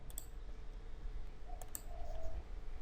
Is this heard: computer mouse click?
yes